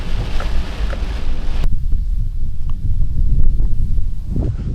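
Strong desert wind buffets the microphone on a trout-fishing trip in central Washington, a loud low rumbling roar with gusty thumps that cuts sharply to a calmer, still-blustery hiss partway through.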